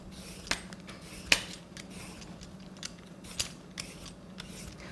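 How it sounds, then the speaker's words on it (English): Peeler scraping a radish for napa cabbage kimchi in a kitchen, faint soft scraping with a few sharp clicks and taps at irregular intervals over a low steady hum, no talk. "So I washed it, and you peel the radish."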